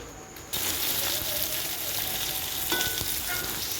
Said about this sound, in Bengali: আলুগুলো দিয়ে কিছুক্ষণ নাড়াচাড়া করার পরে গাজর বটবটি যেগুলো ছিল কাঁচা লঙ্কা সব দিয়ে মা এগুলো ভালোভাবে এবার ভেজে নিচ্ছে